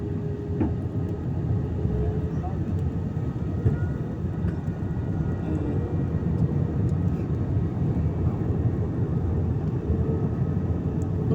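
Fixed-wing airplane in flight heard from inside the cabin, a loud continuous low engine and airflow drone that holds steady throughout, with no talk.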